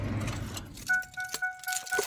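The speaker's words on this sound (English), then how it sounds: "My car yells at me when I have my lights on still." A car's headlights-left-on warning chime rings as a series of bright, sustained electronic tones after some rustling and key-like jingling, fairly close and moderately quiet, with no speech.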